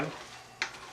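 A chili mixture with green chilies is stirred in a pot, giving a brief soft sizzle and one sharp scrape of the spoon midway through the second-long moment.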